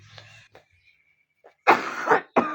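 At Safari Park in Karachi, a person coughs a few times close up, in quick harsh bursts after a quiet moment.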